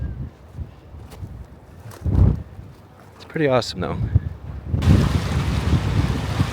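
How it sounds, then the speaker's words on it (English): Strong wind at the Great Salt Lake in Utah buffets the microphone in heavy gusts, roaring and rumbling around people talking, with a loud sustained blast near the end. "It's crazy windy."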